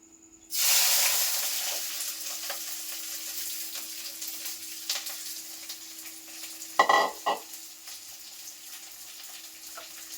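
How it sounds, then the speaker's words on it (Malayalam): Loud frying sizzle starts abruptly and hisses steadily, with a few sharp pops and crackles as mustard seeds burst in hot oil with onion in the pan. "അങ്ങനെ കടുക് പൊട്ടുന്നുണ്ട്"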